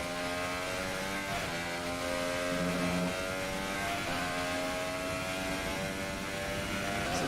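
An F1 car engine in F1 2018 at the Italian Grand Prix, a loud continuous high-pitched whine with stepped pitch drops from quick aggressive downshifts, steady throughout with no talking.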